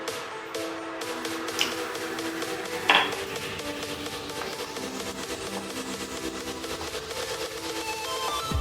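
Dried shrimp pounded by hand in a mortar as lemper filling, giving repeated dull knocks and scraping clinks at close range over a steady kitchen background, with one sharper strike standing out.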